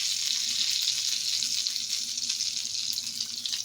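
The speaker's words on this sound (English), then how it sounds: "So the fat's spitting away" Fat sizzles and spits in a frying pan while eggy bread is made, a loud close hiss with crackling pops that holds steady throughout, no voices.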